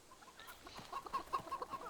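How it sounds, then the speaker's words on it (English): Chickens in the video game Fable III cluck in a quiet string of short, soft calls that grow busier and slightly louder toward the end, with no talking. "You're not allowed to kick these chickens."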